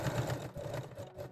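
A sewing machine runs a zigzag stitch across a garter belt, giving a steady, close mechanical whir with a faint rhythmic pulsing as the needle swings back and forth, and no voices over it.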